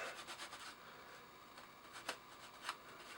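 Sandpaper rubbing paint off the plastic body of a WPL 116-scale Toyota Hilux RC crawler, a soft continuous close scratching with a few sharper rasping strokes.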